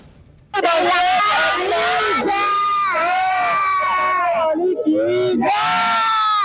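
Devotees queuing in Mathura loudly chant praise to Krishna, their many raised voices blending into sustained, overlapping calls close by with brief pauses between shouts.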